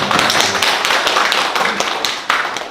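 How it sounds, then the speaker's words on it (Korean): A church congregation claps together in a burst of dense, fairly loud applause during a sermon that continues steadily for a few seconds. "박수 한번 하도록 하겠습니다."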